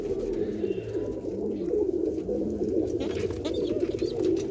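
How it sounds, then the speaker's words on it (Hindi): Pet pigeons coo close by, several soft low rolling calls repeating in a steady rhythm, with a few faint higher chirps later on. "तो गाइस, एक ही मेरा बाजरा कबूतर है।"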